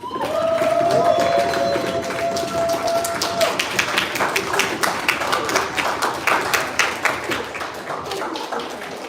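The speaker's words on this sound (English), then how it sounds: "Please give a big round of applause to the team from Agro-Vibe." Audience applause for the runners-up team at an award event, loud steady clapping with some cheers and whistles that fills the clip from start to finish.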